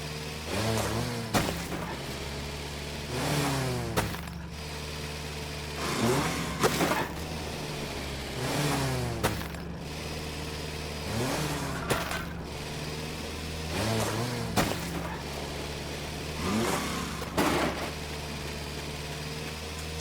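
A tractor engine drones steadily in the Farm Together video game, a low hum broken by regular recurring mechanical bursts and clunks every few seconds, with no talk over it.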